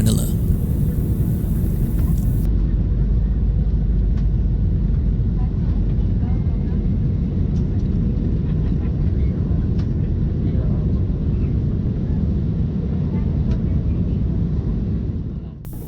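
Inside a Philippine Airlines PAL Express airplane cabin during a cloudy, turbulent descent into Manila, a loud, constant engine and airflow rumble fills the space without a break.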